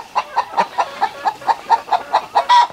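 Hens cluck in a chicken coop on a Philippine farm, a close, loud, evenly spaced series of about a dozen clucks ending in a sharper squawk.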